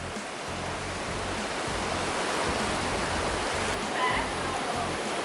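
A river flowing below the climbing crag at Maè, a steady loud broadband rush of water that fills the whole stretch evenly, with no voices over it.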